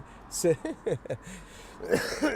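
Someone laughs in short breathy bursts, then breaks into a rough cough near the end, close by.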